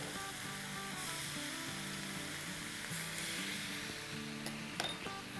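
Soy sauce and vinegar hit a hot pan with a steady, fairly quiet sizzle. Background music plays throughout, and there are a few faint utensil clicks near the end.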